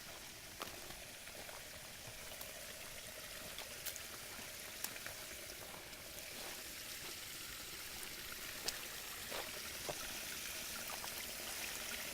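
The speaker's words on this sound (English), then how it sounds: "I want to see if I can actually get some water to go through it" Water trickling and gurgling through an old cracked, dirt-clogged pipe at a neglected spring outdoors, a steady faint bubbling flow with scattered small drips and splashes, no voices.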